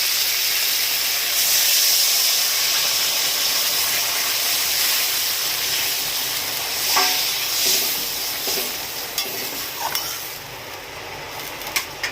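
Water poured into a hot pan of tangra fish curry with elephant foot yam hisses and steams loudly and continuously, the sizzle easing toward the end amid a few light utensil clinks.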